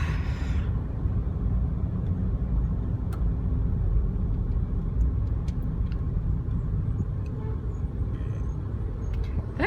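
Steady road rumble of a truck cruising along a multi-lane highway, a continuous low drone heard close from inside a vehicle with no break through the whole stretch.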